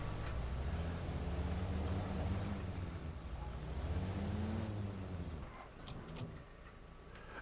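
Vehicle engine in the military game Arma Reforger, rumbling and rising and falling in pitch as it drives over terrain, moderately loud at first then easing down as it slows near the end.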